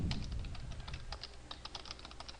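Rapid, steady typing on a computer keyboard at a workstation desktop, a quick run of light clicky keystrokes close by over a soft low hum, with no voices.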